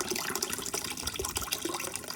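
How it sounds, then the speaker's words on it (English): Water with orange fabric dye being poured into a container, a steady splashing, trickling pour close by that runs evenly throughout without pause, meant for dyeing a thick piece of mudcloth fabric. "So we're going to pour the water, pour the dye in here."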